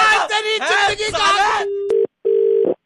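A telephone rings in two short electronic tones after a stretch of lively talk, the ring sitting close and loud once the voices stop.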